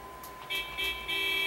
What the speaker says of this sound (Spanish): Mira el otro tocando la bocina.